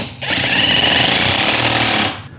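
A power driver sinks a 1.5 inch face frame screw into a pre-drilled, glued joint of a deep bathroom cabinet, giving a loud, steady two-second whine with a rattling buzz that starts and stops abruptly.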